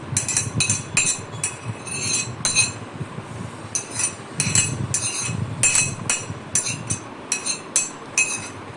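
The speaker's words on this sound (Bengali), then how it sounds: "দিয়ে ভালো করে ওটাকে মিশিয়ে নেব।" A spoon clinks repeatedly against a bowl as suji batter is mixed with egg, chopped onion, green chilli and curry leaves, giving quick irregular bursts of scraping and tapping close by.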